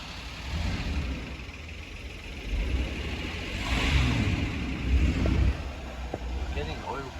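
1993 Ford XG Falcon panel van engine idling roughly with a severe misfire, a low uneven rumble that surges and dips, while someone talks over it.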